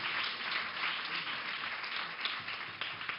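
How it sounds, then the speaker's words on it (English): A summit audience gives a steady round of applause for a panel of women politicians, a dense, even wash of many hands clapping that stays fairly distant and muffled throughout. "Give them one big round of applause, ladies and gentlemen."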